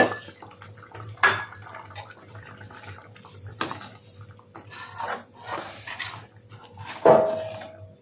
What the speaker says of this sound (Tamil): இந்த அளவுக்கு கரைச்ச புளியை ஊற்றிக்கிங்க